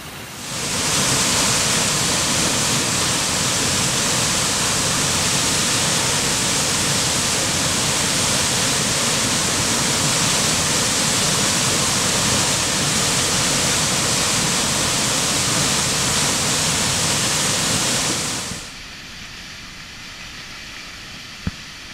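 A loud, steady roar of a dry-season waterfall on Costa Rica's Osa Peninsula fills most of the clip, then cuts off abruptly to a much quieter background hush.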